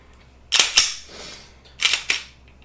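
A handgun trigger is worked, giving two pairs of crisp, close mechanical clicks over a quiet background.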